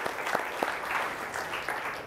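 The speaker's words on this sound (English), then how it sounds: "give yourselves another round of applause" Audience applause at a Strange Loop conference talk after a live Web Audio API orchestra performance, a steady wash of many hands clapping with a few louder individual claps standing out.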